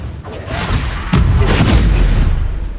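Confringo fire spell blasting in Hogwarts Legacy, a loud booming explosion with a sharp onset near the middle followed by a sustained low rumble that fills the rest of the moment.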